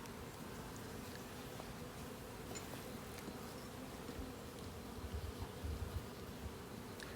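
A dense, steady hum of many honey bees buzzing close by, continuous throughout with no voices.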